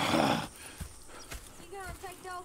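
Horse hooves clopping in Red Dead Redemption II, a few distinct thuds spaced about half a second apart after a loud burst of noise, with a brief whinny-like tone and speech-like voices toward the end.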